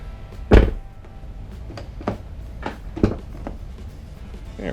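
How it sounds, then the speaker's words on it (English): The passenger door of a 2016–2024 Camaro LT shuts with a single sharp, close thunk, followed by a few fainter clicks and knocks from the door and trim. "Let's close the door."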